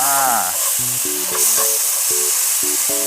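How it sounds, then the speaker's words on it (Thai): Mama instant noodles stir-fry with holy basil, fish sauce and sugar in a hot pan, giving a continuous hissing sizzle beneath a few short musical tones. "ทำการผัดครับผม"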